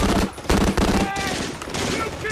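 Rapid bursts of German machine-gun and rifle fire on the Normandy beach, dense overlapping volleys, loud and close, with a voice over the shooting.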